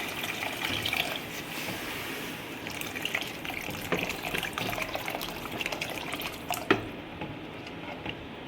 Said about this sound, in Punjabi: ਹੁਣ ਆਪਾਂ ਇਹਦੇ ਵਿੱਚ ਪਾਣੇ ਆ ਪਾਣੀ